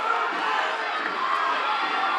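A wrestling crowd at the 2014 GMC wrestling finals, 285-pound bout, roars in a dense, continuous wall of cheering and shouting through a tense overtime moment, loud and near throughout.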